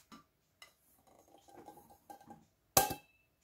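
Sifted type 405 wheat flour stirred into a milk batter for yeast apple pancakes in a bowl: sparse soft scrapes and light clinks of utensil on bowl, then one louder knock near the end.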